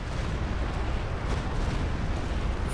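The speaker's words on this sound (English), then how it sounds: "There's a Panzerwerfer from Von Asten that's moving up right now. It's going to fire." Panzerwerfer rocket artillery firing in Company of Heroes, a continuous roaring, rumbling barrage of booms and bursts, loud and dense throughout the moment.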